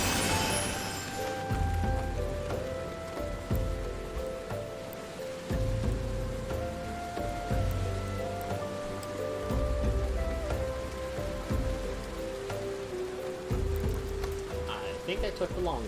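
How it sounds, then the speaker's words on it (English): Heavy rain falling in the Final Fantasy XIV game world, a steady wash of downpour running the whole time beneath a musical score and in-game sounds. "But dang, it's raining heavy."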